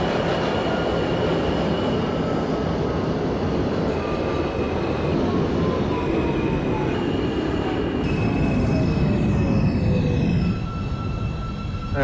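An R160 R subway train in the OpenBVE simulator rolls along steadily and loudly, with continuous rumbling wheels, sliding whining motor tones and a squeal, no voices.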